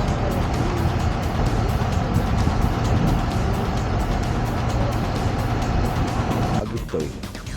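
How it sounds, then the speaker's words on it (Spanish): Tractor engine on a road, pushing another vehicle from behind, a steady loud diesel rumble and drone throughout with wind noise, fading slightly near the end. "Mira el tractor cómo se levanta."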